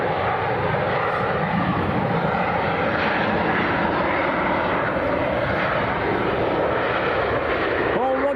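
A Jet2 passenger jet from Tenerife South passes with a sustained, broad engine roar that holds steady throughout, while voices talk over it.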